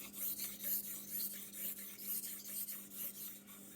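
Contact cement is smeared onto a masonite sheet in steady, repeated rubbing strokes, close and moderately loud, with a faint hum underneath and no talking.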